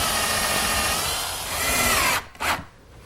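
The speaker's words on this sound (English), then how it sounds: "Now I'll just pre-drill some holes for some 1 5/8 screws." Power drill pre-drilling pilot holes in wood for 1 5/8 screws, a loud steady whine for about two seconds, then a short second burst, close and alone.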